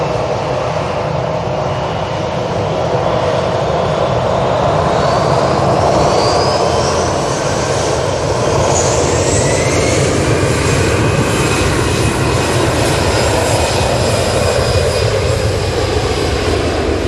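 An easyJet airliner departs Manchester Airport, its jet engines a loud, continuous roar with a rising whine, heard close and steady throughout.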